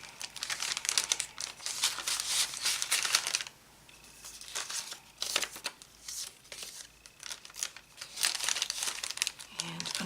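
Paper crinkling and rustling in bursts as a stuffed bag is wrapped with vintage hankies and extra paper, close and fairly loud, with a voice talking over parts of it.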